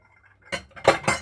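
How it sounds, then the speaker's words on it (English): Glass bowls clink and knock as they are lifted from a kitchen cabinet, three close, bright impacts in quick succession after a quiet start. "I'm going to get out a glass bowl. A lot of glass bowls up in this cabinet."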